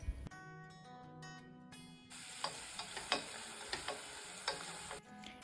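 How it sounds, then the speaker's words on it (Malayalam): Small onions cut up and sautéing in hot coconut oil in a pan give a soft, steady sizzle, with occasional light clicks of stirring, quiet and close with no talk. "ബ്രൗൺ കളറാവുന്നത് വരെ വഴറ്റിയെടുക്കാം"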